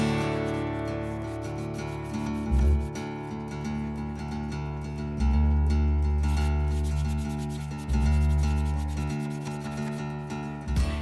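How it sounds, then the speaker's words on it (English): Jointer or power planer blade being honed in place, repeated rubbing strokes with a low scraping rasp, rising and falling in a slow back-and-forth rhythm close by. "honing it brings the edge back into alignment and effectively makes it sharp again"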